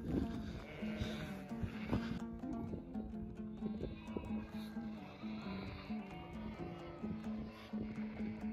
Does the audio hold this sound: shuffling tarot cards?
no